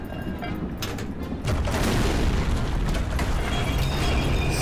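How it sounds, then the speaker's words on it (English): Gunfire from a cannon in the World War II shooter Medal of Honor: Allied Assault, with a dense run of booms and bursts that swells louder partway through and continues under steady game noise. "Say a very weak cannon."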